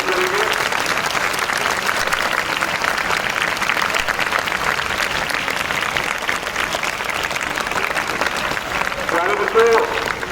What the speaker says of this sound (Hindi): एक बार जोरदार तालियों से इनका स्वागत करेंगे।